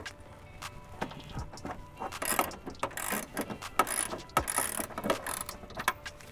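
A ratchet wrench tightens bolts while a Switch Pro 9100 is installed in a Tacoma truck, with quick clicking bursts and metallic clinks repeating irregularly at close range.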